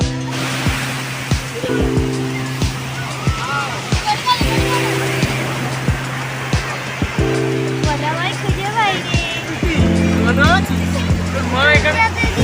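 Waves wash onto a sea shore in a steady surf roar while a crowd chatters nearby, with people talking close by over the water.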